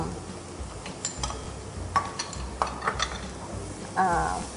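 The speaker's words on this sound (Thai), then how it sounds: "แล้วก็ผัดให้ส่วนผสมมันนิ่มให้มันนิ่มให้สุกค่ะ" Diced onion, garlic and mushrooms stir-fried in a pan, with a steady sizzle and scattered scraping clicks of the spatula against the pan, close and fairly loud.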